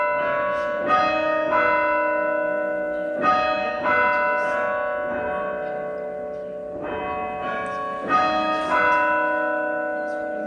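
Church bells peal with repeated strikes from a tower, their rich ringing tones sustaining and overlapping in slow, steady waves throughout at a fairly loud level.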